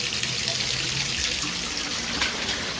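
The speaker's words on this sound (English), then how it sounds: "Cold water is cranked." Cold shower water runs steadily at full blast, a continuous close hiss and splatter with no voices.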